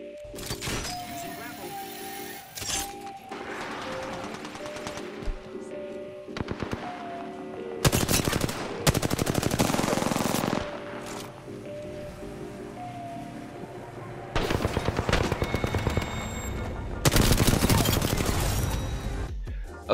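Bursts of R-301 rifle fire ring out in Apex Legends, several loud automatic volleys with short pauses between them. Quieter game sounds and a talking voice fill the gaps.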